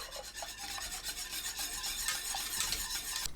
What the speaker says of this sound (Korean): 불 끈 상태에서 찹쌀가루 푼물 넣고 섞어주세요.